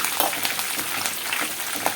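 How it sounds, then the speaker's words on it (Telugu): Curry leaves fry in hot oil as a tempering for mango pulihora, a dense continuous crackling sizzle up close with small pops throughout. "చూసారా, ఇలా చక్కగా దగ్గరుండి వేపుకోవాలండి, నల్లగా మార్చేసేసుకోవద్దు."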